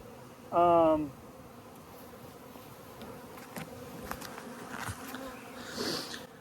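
Honeybees at a hive give one brief, close buzz that rises in pitch and fades, followed by faint, low insect hum and small handling sounds.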